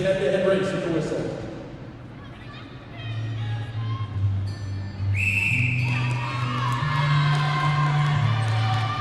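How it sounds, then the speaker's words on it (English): At an indoor pro roller hockey quarterfinal, a referee's whistle blows clearly to start a head-to-head race, followed by crowd cheering, whoops and a buzzer-like tone, under announcer talk. "They're lining up and will begin this head-to-head race at the whistle."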